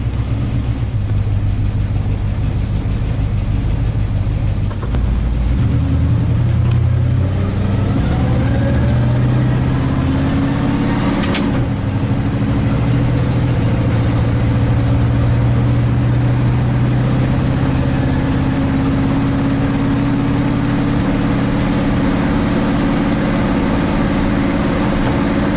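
A 1968 big block Chevelle, an old drag car with stock suspension refitted, roars on a test drive, its engine loud and close, revving and shifting through rising and falling pitch over constant road noise.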